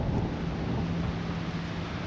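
Blustery wind off a lake along the Kinkaid Lake Trail buffets the microphone with a constant low rumble, no voices, just a steady roar of moving air.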